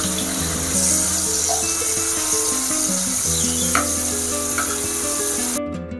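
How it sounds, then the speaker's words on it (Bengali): Pointed gourds (potol) fry in hot oil in a wok, giving a continuous, close and fairly loud sizzle with occasional crackles and light stirring sounds. "এবার আমি পটলগুলো ভেজে নেব।"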